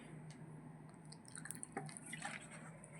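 A pet dog laps water from a bowl on a bed, making faint, irregular wet licking and dripping sounds against a low background hum.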